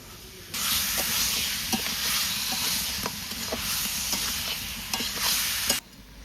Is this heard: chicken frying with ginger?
yes